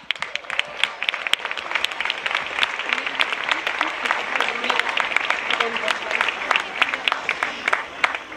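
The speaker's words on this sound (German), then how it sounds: "Ein Applaus für Marita." A crowd at an outdoor climate demonstration in Köln gives sustained, moderately loud applause for a speaker from the Naturfreunde NRW, with many hands clapping in a steady patter.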